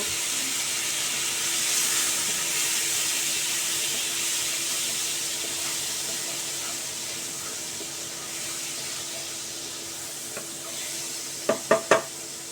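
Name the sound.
spice tempering sizzling with a little water in pan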